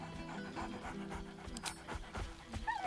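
Dog panting in Baldur's Gate 3, quick rhythmic breaths running steadily under game music, with a brief high whine near the end.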